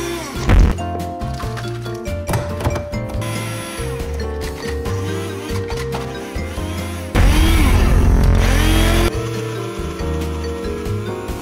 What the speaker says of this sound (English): It's a regular smoothie blender.